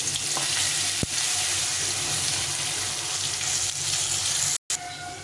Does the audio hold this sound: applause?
no